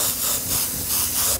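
An airbrush sprays paint onto a pair of dice in a steady, close, continuous hiss of air that holds evenly and then cuts off sharply at the end.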